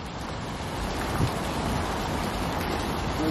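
Soft, steady rain patters in a continuous hiss in Sintra, Portugal, fairly quiet and even throughout, with no voices.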